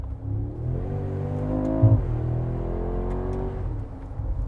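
Mercedes G-Wagon G63 AMG engine revving close by, a loud steady roar that rises in pitch, peaks, then settles back down, with no talking over it.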